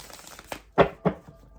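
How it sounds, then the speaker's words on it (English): Tarot cards being shuffled by hand, a few soft, close riffling snaps spaced unevenly over a quiet background, with no speech. "I know we're shuffling forever."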